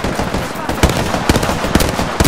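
Rapid bursts of automatic gunfire from an Apex Legends match, several sharp volleys over roughly two seconds, loud and close amid continuous game noise.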